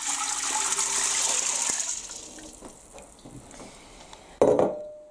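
Six cups of water pour steadily into an Instant Pot pressure cooker holding a pound of dried beans, a loud splashing rush that tapers off, ending with a sharp clunk.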